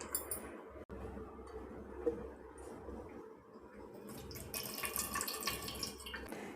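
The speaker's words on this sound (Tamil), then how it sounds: "இப்போ நம்ம இதை கலந்துட்டு வடிச்சிடுவோம் தண்ணியை" Salted soaking water is poured off sliced potatoes, splashing and trickling with soft wet squelches and a light clink, rising to a steadier rushing pour near the end.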